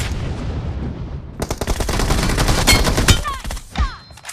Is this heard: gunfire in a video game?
yes